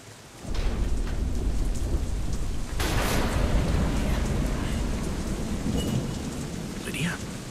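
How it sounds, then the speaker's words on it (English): Heavy rain pours steadily with rolling thunder in a thunderstorm from the video game Deadlight, a loud continuous wash that swells with a crack of thunder near the middle. "Storm."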